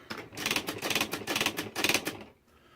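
Quick clattering bursts of keystrokes on a Smith Corona SL80 electric typewriter, four or five close, crisp clusters of strikes in a steady rhythm before stopping.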